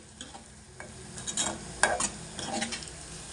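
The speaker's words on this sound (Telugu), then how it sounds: "ఉల్లిపాయలు అయితే ఇలా వేగిపోయాయండి" Onions fry in a pan for a spinach and tomato curry, a close sizzle broken by scraping stirs of a utensil against the pan, growing louder midway, with no one talking.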